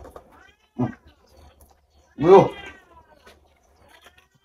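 A cat meows twice during a casual home meal of crispy pata, with a short cry followed by a louder, longer drawn-out meow, and a brief word spoken between them.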